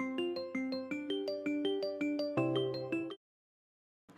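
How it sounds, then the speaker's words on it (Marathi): A phone ringtone plays a bright, rhythmic electronic melody of quick repeated notes for about three seconds, close and clear, then stops abruptly into silence. "फोन कुठे वाजला"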